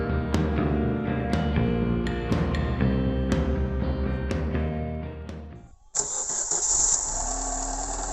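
A rebuilt Daewoo Nexia engine cranks and fires with a sharp catch near the end, then settles into a loud, steady idle with a bright high whine over a low rumble.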